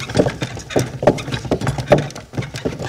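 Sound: bullock cart

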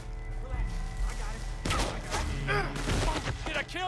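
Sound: gunshots in video game Red Dead Redemption II

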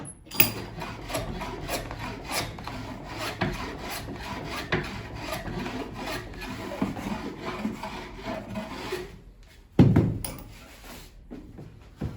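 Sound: rasping wood to level the fretboard of an electric bağlama

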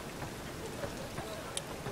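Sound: rain in The Witcher 3: Wild Hunt video game

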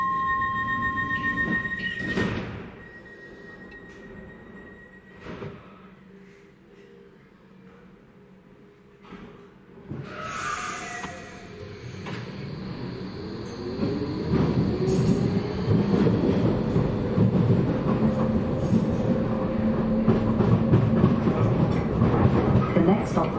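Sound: light rail train departing

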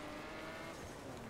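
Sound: car accelerating in video game The Crew

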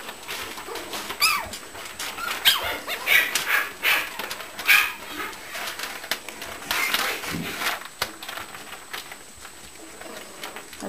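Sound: puppies playing and barking in the background

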